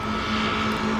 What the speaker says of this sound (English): The radial engines require lots of maintenance.